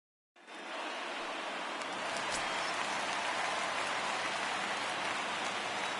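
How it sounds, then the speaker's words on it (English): Steady hiss of rain falling in a baseball video game, starting abruptly and continuing evenly as a dense wash with no talk over it. "There is rain in the air."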